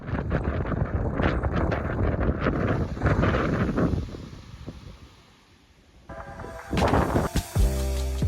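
Strong wind at sea off the Queensland coast near Great Keppel Island, roaring and buffeting the microphone. It eases briefly midway, then gusts back hard with boat rattles and clanks, with no talk.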